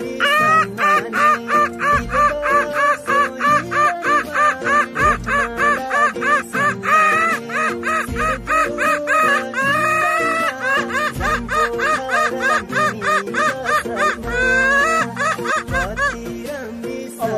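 A voice imitates a hen calling: rapid, repeated clucking and cackling bursts in a steady rhythm, loud and close, continuing alone for a long stretch.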